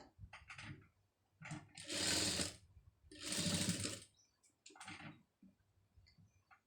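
A sewing machine stitches a curved scallop neck design in short bursts: two longer runs of rapid whirring stitching flanked by brief stop-start clicks, close but fairly quiet, with no talking.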